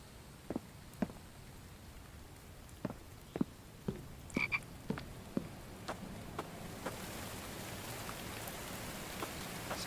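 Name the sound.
frogs croaking in the video game The Infected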